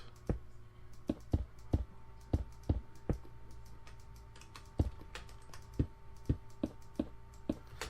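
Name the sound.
computer mouse clicking repeatedly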